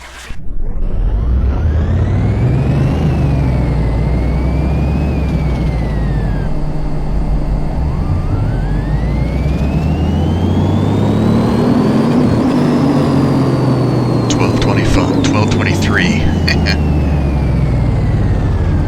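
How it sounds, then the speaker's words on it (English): Upgraded 1100 horsepower car engine in Car Mechanic Simulator 2018, revving loudly and repeatedly, pitch rising and falling in long sweeps over a continuous mechanical drone, close and without talk. "This is like an 1100 horsepower engine when it's all upgraded."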